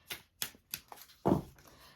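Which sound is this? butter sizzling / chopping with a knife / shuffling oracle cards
shuffling oracle cards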